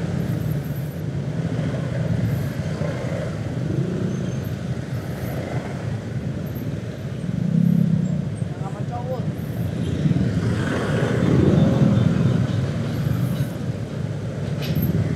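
A big container truck rumbles through congested Jakarta traffic, a steady broad engine drone with swelling passes and a brief air-brake hiss, while people talk over the noise.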